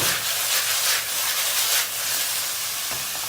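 Onions mixed with garlic hit a hot pan of caramelizing chicken, giving a steady, loud hiss and sizzle of frying that holds continuously throughout, with no voices.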